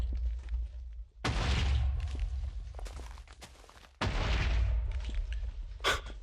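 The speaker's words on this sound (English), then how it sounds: "we can actually remove the sound of the explosions" Wither explosions go off in the Minecraft StoneBlock 2 modpack game, with two sudden loud booms a few seconds apart, each trailing into rumbling debris, and lighter clicks and taps between them.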